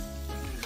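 Cubed beef chuck browning in batches in a hot brazier, giving a brief, steady, close crackling sizzle of frying meat.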